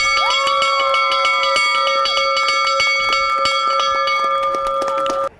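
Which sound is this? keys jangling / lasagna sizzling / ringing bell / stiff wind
ringing bell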